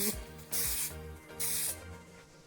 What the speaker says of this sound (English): I'm going to keep watching where I actually spray, so I don't spray inside or anything like that